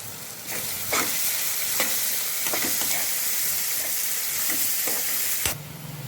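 Onions and green chillies fry in a pan, a constant loud sizzle broken by several sharp scrapes and knocks of a stirring spoon, ending abruptly.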